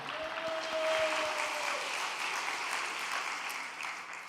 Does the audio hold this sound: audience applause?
yes